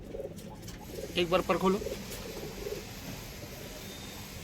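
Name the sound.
pigeons cooing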